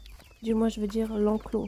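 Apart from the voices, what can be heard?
chickens clucking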